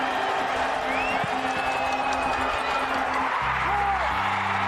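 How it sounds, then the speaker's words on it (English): A large crowd roars steadily at a high school sports championship celebrating the Grafton High School Blackhawks' win, a dense continuous wash of cheering and shouting with whistles rising above it. "Just listen to that crowd."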